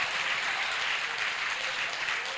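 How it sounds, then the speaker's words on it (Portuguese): A church congregation at a pastors' gathering claps together, a dense, continuous wash of applause that stays loud and even from start to finish with no voices over it. "Pode dar salva de palmas ao Senhor em nome de Jesus."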